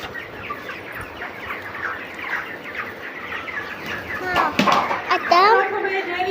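Chickens cluck and squawk inside a chicken house as feed is brought in a bucket, a busy chorus that grows louder and more agitated toward the end, with a person talking over it.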